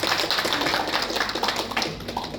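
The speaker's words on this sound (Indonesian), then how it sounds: "Mari beri tepuk tangan yang meriah" Lively audience applause at the LDBI Jambi 2023 debate competition, a continuous, fairly loud patter of many hands clapping that fills the whole moment with only faint voices underneath.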